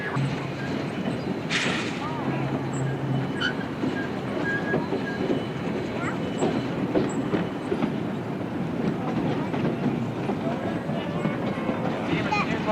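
A geared steam locomotive with a gear drive mechanism runs on the Georgetown Loop Railroad, giving a steady, loud mechanical rumble with rail clatter throughout as people talk over it.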